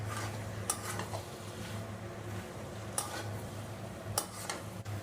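Green jackfruit and potato stir-fried together with green chilli and tomato in a pan, a low steady sizzle broken by a few sharp clinks of a spoon against the pan, close, no voices.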